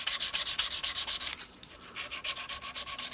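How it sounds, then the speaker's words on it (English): Guitar frets on a Stratocaster being polished by hand through progressively finer sanding grits, a steady rhythmic rubbing of quick back-and-forth strokes, close and fairly loud, with a brief pause midway before the strokes resume. "Now we're just going through the grits, polishing them up"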